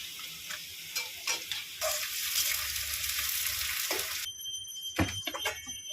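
Onion fried until reddish sizzles in a pan with chopped goat fat, a close crackling hiss with stirring scrapes and clicks that drops away near the end.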